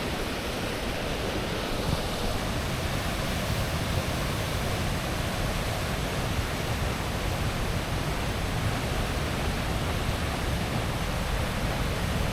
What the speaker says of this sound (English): I knew there was a waterfall coming, but I just expected it to be rubbish and small.